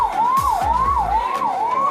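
An ambulance siren wails in a steady rising-and-falling cycle at a late-night protest gathering at Jantar Mantar in Delhi, loud and close, with a low vehicle rumble beneath.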